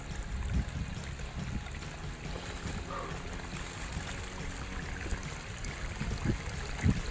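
Mountain stream of running water near the top of a 1,700-foot mountain on the Eagle Rock Loop in Arkansas, a continuous close gurgling trickle with occasional low thumps and splashes.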